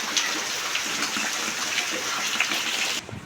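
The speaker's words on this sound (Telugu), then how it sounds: "ఇలా వర్షం అయితే బాగా కుడుతుంది" Heavy rain pours steadily onto a flooded doorstep, a dense hiss with scattered drop splashes that runs unbroken for about three seconds, then drops off sharply at the very end.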